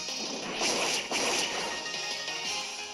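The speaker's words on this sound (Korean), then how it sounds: "자, 개굴린자의 제비 반환!" Greninja's Aerial Ace attack in the Pokemon Sun video game: a sharp whipping slash with crashing impacts and whooshing sweeps, loud and busy over steady game music.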